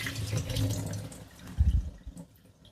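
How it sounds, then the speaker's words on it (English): Hot soaking water is poured off three softened dates in a kitchen, giving a close splashing, trickling pour with a brief heavier gush in the middle before it thins out. "this is 3 dates that I've soaked in hot water for a while to make them really nice and soft. So I'm going to drain out that water."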